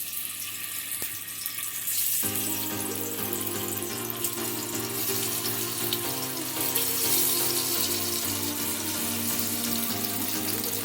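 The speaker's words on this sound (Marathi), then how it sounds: "फ्राय करायला टाकतोय" Masala-coated potatoes dropped into hot oil to fry as a crispy snack. A steady background hiss jumps to a loud, continuous sizzle after about two seconds and stays strong throughout, with no talking.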